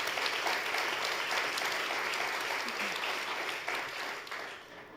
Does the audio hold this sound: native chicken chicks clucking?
no